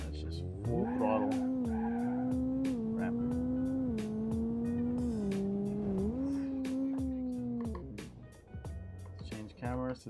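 A car in a crash simulator racing game roars at full throttle through a wheel setup, its engine tone rising and holding loud and steady for several seconds before dropping off, with rapid clicking tapping throughout.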